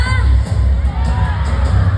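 Crowd at a district finals winners announcement shouting and cheering for their area, a loud continuous roar of voices with whoops throughout.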